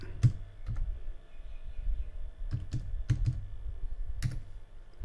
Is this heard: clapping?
no